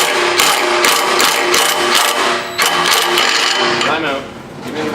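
An impact gun hammers at the muffler bolts on a 2012 Subaru STI during a catback exhaust install, a loud close rattling burst with a brief break, then more rapid impacts.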